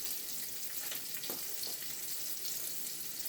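Salmon fillet crisping skin-side down in a hot pan gives off a steady, soft sizzle with faint crackles, fairly quiet and continuous throughout, with no voices.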